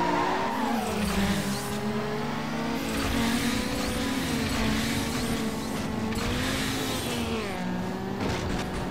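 Mazda race car in the street-racing game Need for Speed Underground, its engine droning and revving continuously with tire squeal and skidding mixed in, loud and up close throughout.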